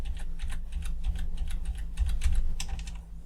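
A computer keyboard is tapped repeatedly while editing in Sony Vegas Pro, giving a quick irregular run of about a dozen close, crisp key clicks with no talking.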